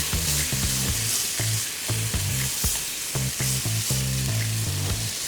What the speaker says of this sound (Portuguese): Tem que mexer com um pouco de vigor mesmo